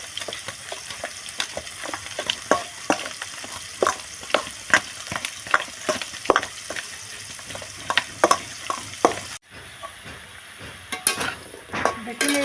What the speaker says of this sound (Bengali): দেখুন এইভাবে আলুটাকে লাল করে ভেজে নিতে হবে